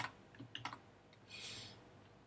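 A few soft, close keystrokes on a computer keyboard, typing Control-C, with quick light clicks in a short cluster followed by a faint hiss in a quiet room.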